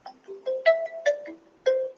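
A short electronic ringtone melody of several bright tonal notes stepping up and down, clear and fairly close, with no voices.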